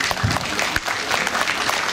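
An audience applauds during an award ceremony at a municipal meeting, dense steady clapping from a full hall that holds evenly for the whole stretch.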